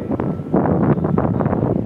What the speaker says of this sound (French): Donc il fait bon, le vent à 30 km heure